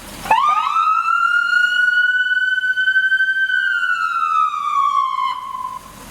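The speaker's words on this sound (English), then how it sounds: "Here's a dual tone wail." A loud, close dual-tone wail siren on a Ford F-350 hazmat truck rises slowly to a long peak, then glides back down, bright and sustained.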